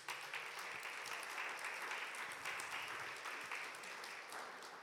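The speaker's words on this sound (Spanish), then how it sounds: "Dale un aplauso al Señor" Church congregation applauding during a sermon, a dense, steady wash of many hands clapping, distant and fairly faint, with no voices over it.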